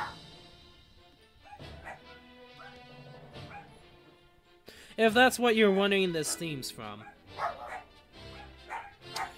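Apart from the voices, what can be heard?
dog barking in the background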